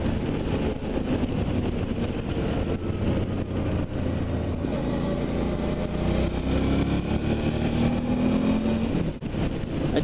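Motorcycle accelerating along a shaded country road, a steady engine drone that rises in pitch and revs harder toward the end, close and loud throughout.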